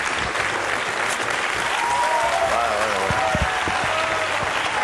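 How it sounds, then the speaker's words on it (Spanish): Audience applause for a prize presentation on a Spanish evening television show: dense, steady clapping fills the whole stretch at an even loudness, with faint voices mixed underneath. "Un aplauso para Pepe, que también va a tener su premio."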